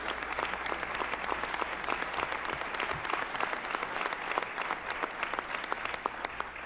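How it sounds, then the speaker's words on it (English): An audience claps continuously after a presentation at a 2014 National Governors Association event for the Academies of Nashville, a dense, even sound of many hands throughout with no break. "let's give Lucia and Robbin a big round of applause"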